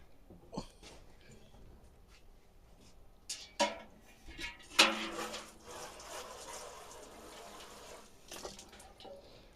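Water is poured over seedlings in homemade paper pots indoors in a living room, giving a few short splashing trickles amid quiet room noise and soft talk.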